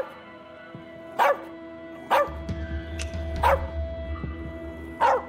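A dog barks in the video game As Dusk Falls, giving four sharp, separate barks a second or so apart over a low indoor hum.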